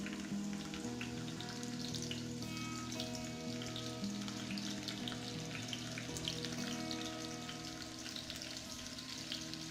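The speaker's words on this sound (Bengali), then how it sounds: "প্রথমে আমি পেঁয়াজটা গরম তেলে দিয়ে দিচ্ছি।" Onion slices sizzle steadily in hot soybean oil on an electric stove, a close, continuous frying crackle with faint stirring and no talk.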